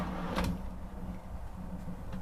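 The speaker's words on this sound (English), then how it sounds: "below the refrigerator and the pantry area I just showed you is this big drawer" A large drawer beneath the refrigerator and pantry in a 2021 Roadtrek Zion SRT B-Class RV slides open with one brief, close scraping rumble near the start, then quiet interior room tone.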